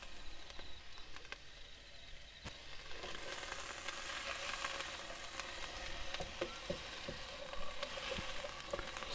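Onions and carrots sizzle and crackle steadily in a pan over a camp stove, a continuous close frying hiss with occasional sharper pops and stirring clicks, no voices.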